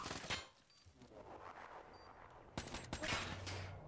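Rapid gunfire bursts in a 4v4 Search and Destroy match of Call of Duty Black Ops 3 on the Breach map, with sharp loud volleys at the start and again near the end and quieter game ambience between them.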